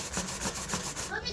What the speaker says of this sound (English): continue to grate it until we are done with everything